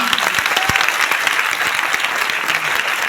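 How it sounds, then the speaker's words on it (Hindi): Loud, sustained applause from an audience at a success celebration event, dense clapping with sharper individual claps standing out near the front. "एक बार राजू जी के लिए चाहूँगा जोरदार तालियां"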